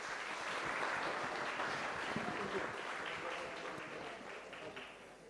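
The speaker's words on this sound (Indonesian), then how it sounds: "Tepuk tangan untuk Pak Lo dan Pak Kris." Audience applause at a panel discussion event honoring Pak Lo and Pak Kris, a steady, dense wash of clapping filling the room for several seconds, fairly distant and tapering slightly toward the end.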